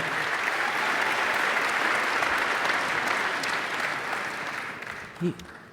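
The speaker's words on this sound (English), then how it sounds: "Give them a round of applause this morning" Steady audience applause at a faith and freedom gathering for state legislators, a sustained wash of clapping that tapers slightly near the end, with a brief voice at the close.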